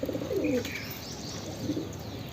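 A pigeon on a rooftop coos in low, rolling calls near the start and again toward the end, with faint chirps from other birds in the background.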